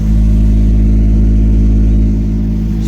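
A 40-year-old Ford Capri turbo engine runs loud and close, a deep heavy rumble holding steady with a slight rev before easing off, with no talking.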